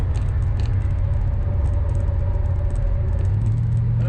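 A car fitted with a B&M 3000 stall converter cruises at steady speed, its engine a constant low droning rumble with road noise and a faint tick in the background.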